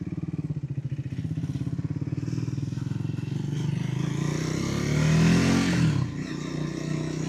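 A Triumph 400XC motorcycle rides along on an island tour, its mid-pitched engine droning steadily close by, swelling into a louder rev near the end before easing back.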